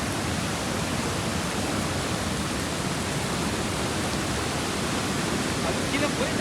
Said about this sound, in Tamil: இதுவே ஒரு சின்ன ஃபால்ஸ் தான்.